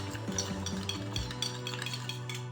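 Spoon stirring a noodle sauce mixture of soy sauce and sugar in a bowl, with soft clinks and scraping against the dish, close and steady over a low background hum.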